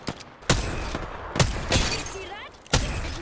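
A 30-30 Repeater lever-action rifle in Apex Legends fires several sharp, loud, spaced shots with ringing tails, and faint game sounds fill the gaps between them.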